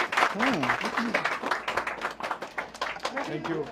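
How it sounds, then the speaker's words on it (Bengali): A crowd applauds in welcome at a political gathering, with a steady wash of clapping that runs throughout and a voice speaking over it. "সামাদ ভাই একটু সবাই একটু হাততালি দিয়ে গ্রহণ করে নেবেন"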